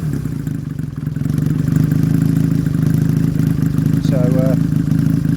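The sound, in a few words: Honda CX500 motorcycle engine running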